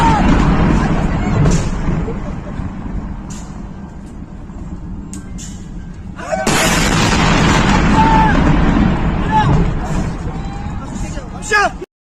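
Explosions from strikes in Iran: heavy booming bursts and a sudden loud surge of broadband rumble over continuous roaring noise, with voices talking throughout.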